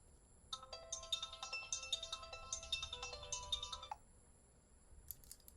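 A mobile phone rings with a bright electronic melody for about three and a half seconds before cutting off, followed later by a brief faint chirp, all fairly quiet.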